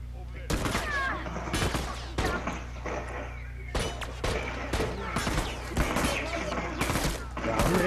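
Rapid bursts of gunfire from The Last of Us Remastered game combat, loud repeated shots in clusters across the clip, with someone talking over the action.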